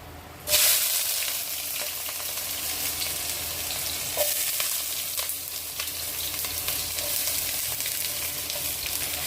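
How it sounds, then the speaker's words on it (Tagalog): Onions dropped into hot oil in a pan that earlier fried chicken, for a simple chicken stir fry: a sudden loud burst of sizzle settles into a steady crackle with a few stirring taps, no speech. "Lagay ng sibuyas."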